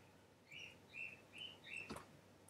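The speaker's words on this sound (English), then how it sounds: "Sorry about the birds." Small birds chirp in short repeated bright calls, four or five distinct bursts in quick succession, close by and fairly faint, with a brief sharp knock near the end.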